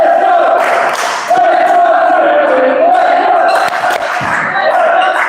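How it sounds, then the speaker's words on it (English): Fans at a men's volleyball match between MK City and Northampton cheer and chant loudly and rhythmically in an indoor hall, a sustained crowd roar with sharp thuds and claps mixed in. "we're getting some cheers from the crowd as we can hear shouts of "Let's go City" from our fans"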